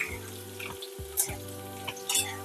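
Finely chopped green chillies sizzle and crackle in hot oil in a pan for Maharashtrian pohe, a close, continuous fry punctuated by a few stirring scrapes, with no talking.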